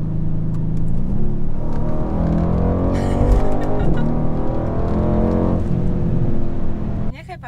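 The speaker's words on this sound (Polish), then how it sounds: "widzę co samochód podjeżdża, widzę co biały, ale to na pewno nie Toyota" A white Mercedes-AMG C63s pulls up on a Warsaw street, its engine rumbling and revving nearby while a voice talks over it.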